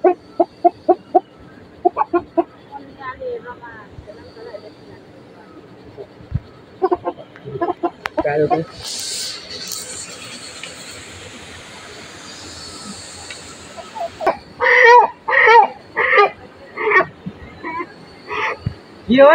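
A rooster clucks in short, sharp repeated bursts, close by and fairly loud, with a few quieter gaps between them. A denser run of clucks comes near the end.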